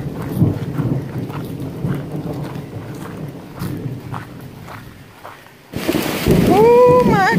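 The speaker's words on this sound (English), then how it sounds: "comes the rain." Heavy rain pours during a thunderstorm on a hike, with low rumbling and patter close by, then a louder burst of rain near the end, overlaid by rising whistly tones.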